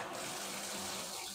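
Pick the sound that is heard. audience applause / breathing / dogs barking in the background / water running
water running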